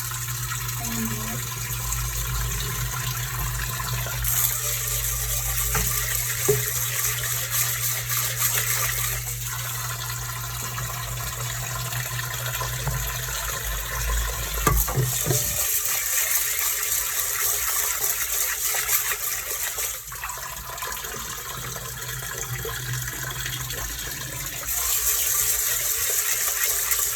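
Mung beans washed under running water, a steady close gush of tap water pouring over the beans for the whole stretch, with a louder, brighter burst of flow near the end and occasional clatters of handling.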